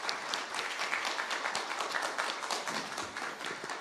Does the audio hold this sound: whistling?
no